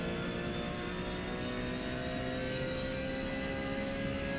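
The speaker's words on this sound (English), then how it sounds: "actually I really like the sound of the engine, which is surprising for me" Ferrari 458 engine in Gran Turismo 7 holds a steady, loud drone with a high sustained whine and no speech, like a car cruising at constant revs.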